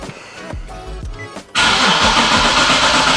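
A car engine starts late at night: a few cranking pulses, then it catches with a sudden loud roar and settles into a strong, steady running rumble, close and alone.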